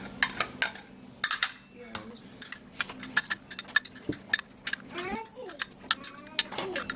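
Moringa seed juice is mashed together with Vaseline and onion in a small dish, giving a series of close clinks, taps and scrapes, with quiet voices in the background.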